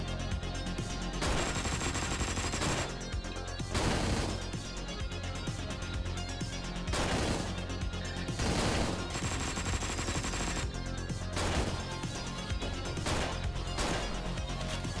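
Loud, dense gunfire from the Hotline Miami 2 bank job level, rapid bursts of shots and crashes repeating in waves over a driving electronic soundtrack, with no talk.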